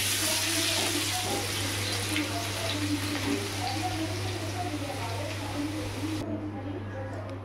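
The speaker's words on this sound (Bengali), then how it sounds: "আলুটায় দিয়ে ভাজা হচ্ছে" Potatoes fry in ghee in a pan with a steady, close hiss and sputter, continuing under a voice talking.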